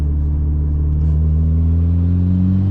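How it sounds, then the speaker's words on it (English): A tuned Mitsubishi Evo engine is revved hard at full throttle, a loud, close, continuous rumbling roar whose pitch climbs steadily as the revs rise, with no voices over it. "Full throttle."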